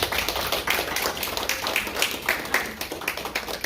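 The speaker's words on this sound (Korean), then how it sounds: "우리 화장의 박수 드리겠습니다" A church congregation claps together to welcome a deacon during Sunday worship, a roughly even run of sharp hand claps repeating about every quarter second, fairly close and loud.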